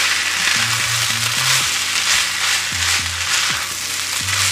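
Chicken fried rice sizzling steadily in a hot pan, a loud continuous hiss with faint background music and no talk.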